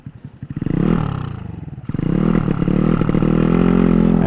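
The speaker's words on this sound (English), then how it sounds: "Looks like a dirt bike." A dirt bike engine running nearby, a loud steady buzzing drone that rises in pitch, dips briefly, then holds at a higher rev with a rough mechanical rattle, no talking.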